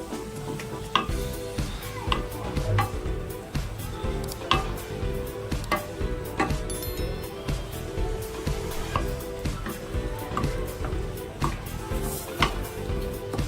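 Chopped boiled green corn being stirred in a pan for corn chivda: repeated light scraping and clinking strokes of a spoon against the pan, steady and fairly close, with a soft background hum and no talking.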